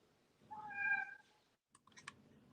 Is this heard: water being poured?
no